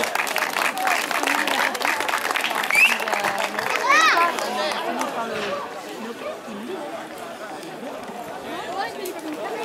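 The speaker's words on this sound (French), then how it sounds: "je demanderai de nouveau les applaudissements du public de Châteaugiron pour les pupilles" Crowd applause from spectators at a youth cyclo-cross podium ceremony in Châteaugiron, moderate clapping mixed with chatter and children's voices, fading slightly toward the end.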